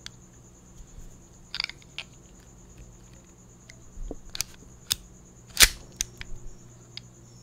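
Slide racked on a toy P229 pistol: a few sharp mechanical clicks and snaps spread across the moment, close and crisp over a quiet room background.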